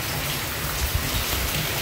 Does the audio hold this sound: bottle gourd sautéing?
no